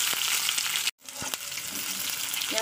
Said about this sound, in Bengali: পেঁয়াজ কুচিটাকে ভালো করে ভাজতে হবে, একটু লাল লাল করে নিতে হবে।